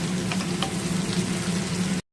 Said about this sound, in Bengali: পেঁয়াজ ভাজা চলছে